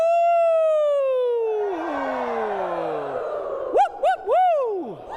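Choir voices at a rehearsal imitate a siren, one long falling wail sliding downward, then a few short rising-and-falling whoops near the end.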